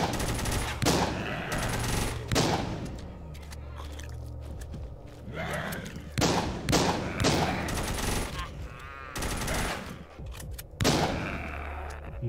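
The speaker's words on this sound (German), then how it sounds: "warum schießt du denn auf mich?" Rapid bursts of gunfire from the zombie shooter game Walking Zombie 2, loud repeated volleys separated by short pauses, with a shotgun and other weapons in play.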